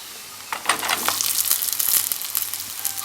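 Three sliced large onions drop into hot oil in a pan for Kerala-style egg roast and fry with a loud, crackling sizzle and scattered stirring clicks, close and without talk.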